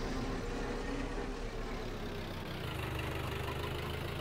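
Tractor engine in the Farming Simulator 22 game, a steady mid-pitched idle drone with a faint rhythmic knock that shifts slightly lower partway through, continuous and close with no talk.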